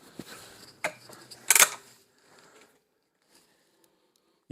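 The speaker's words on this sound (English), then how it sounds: "You can hear the clicks as that anti-bear trap clicks in." Air Arms TX200 Mk3 .177 spring air rifle being cocked, its anti-bear-trap mechanism ratcheting with a few sharp close mechanical clicks and a brief louder snap, then near silence.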